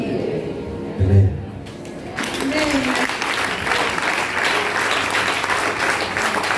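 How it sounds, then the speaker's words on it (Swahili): A church congregation bursts into strong applause, a dense wash of clapping that swells after a brief stretch of a voice and carries on to the end. "Unaona vile makofi ya baraka inatoka ina nguvu."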